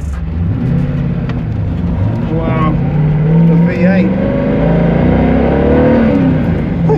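Mosler MT900S race car with a V8 engine and carbon fibre body revs and pulls loudly from inside the cabin, a steady deep drone rising in pitch, while someone talks excitedly over it.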